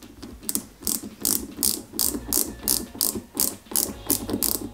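A ratcheting tool tightens screws on a Peugeot 205 GTI 1.9 model kit from IXO Collections, giving a close, steady series of about a dozen rhythmic clicking strokes.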